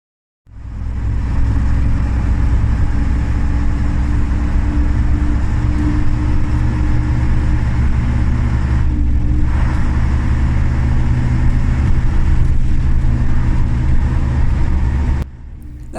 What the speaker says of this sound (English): these particular buses ended up with their own unique sound